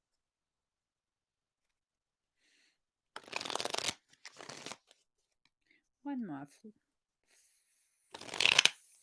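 Several short bursts of cards being riffled and bridged, a few seconds apart, with a brief spoken phrase between them.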